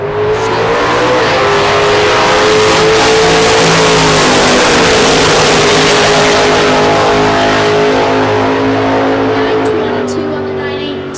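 Cars launch down a drag strip at a nitro drag racing meet: a continuous, very loud engine roar and rising rev that holds for the whole stretch, with an announcer's voice running underneath.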